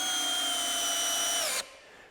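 A small cordless drill whines at a steady high speed as it drives small fasteners, then cuts off abruptly and leaves a faint room tone.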